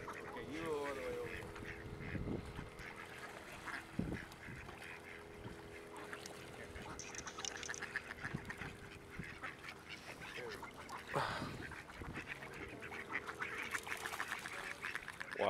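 Geese at Miramar Reservoir in San Diego, honking and quacking in scattered calls at varying distances amid outdoor ambience, with people chatting nearby.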